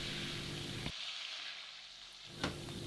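Veal kidney and shallots cooking slowly in plenty of fat in a cocotte, a steady soft sizzle that dips briefly before a small clatter, with no talk.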